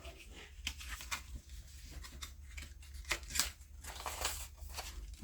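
Scissors cutting folded paper card for a one-sheet craft project, a series of close, crisp snips and rustles spread through the clip without speech.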